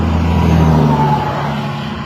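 Trucks and cars rumble past on Interstate 90 near Ritzville, a loud, continuous low roar of heavy traffic with a brief hiss at the start, no voices.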